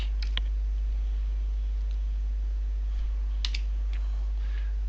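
A few scattered key clicks from a computer keyboard, faint and spaced apart, sit over a constant low electrical hum with no speech.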